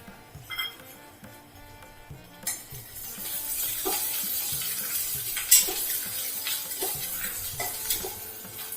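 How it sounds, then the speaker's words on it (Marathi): Coriander and fennel seeds sizzle and crackle in a hot pan while a utensil stirs and scrapes, with scattered sharp pops and clinks throughout. "याला आता आपण एक ते दोन मिनटासाठी चांगलं परतून घ्यायचं"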